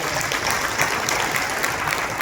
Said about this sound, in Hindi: जोरदार तालियां होनी चाहिए वेज खाने के लिए